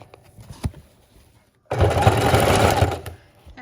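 A sewing machine zigzag stitches ribbon laid over fabric and cardboard, running loud and close in one steady whirring burst of about a second and a half after a few quieter clicks and handling sounds.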